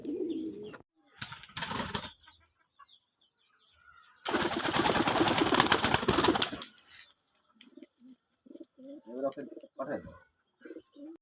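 A female Giribaz pigeon, a Rajshahi Lal Sundori, coos softly in short bursts, broken by two loud, close flurries of flapping wings, the longer lasting a few seconds.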